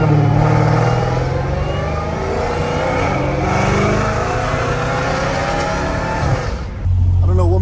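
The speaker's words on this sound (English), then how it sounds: "I don't know what Mercedes that was, but that thing sounded good" A Mercedes engine revs loudly nearby, a harsh sustained roar that climbs and holds for several seconds, drops briefly, then bursts again at the end.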